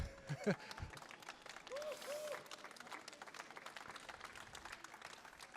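Brief applause from a crowd, with a few sharp claps and a short voice early on, settling into a steady, diffuse clapping texture.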